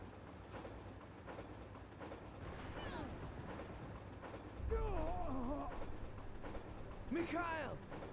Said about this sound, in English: On a bloody tram, everybody.